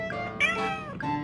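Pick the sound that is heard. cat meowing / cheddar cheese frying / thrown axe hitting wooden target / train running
cat meowing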